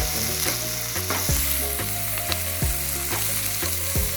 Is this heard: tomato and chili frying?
yes